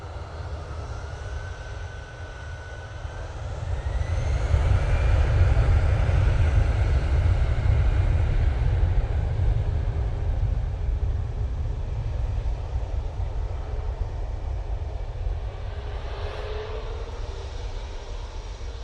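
A Jet2 airliner taxis at Manchester Airport, heard outdoors as a steady low engine rumble with a swelling whine that builds and then holds at a moderate distance.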